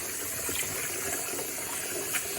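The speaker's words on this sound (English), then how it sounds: "I'll finish rinsing this skein of yarn" Tap water runs steadily over a skein of freshly dyed yarn in a sink, a constant soft gush with small splashy variations and no talking.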